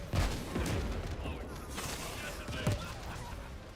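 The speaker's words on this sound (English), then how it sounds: "I got some close-ass gunshots." Close gunfire in a video game crackles in several sharp bursts and booms over a constant background din, with a few loud shots standing out near the start and toward the end.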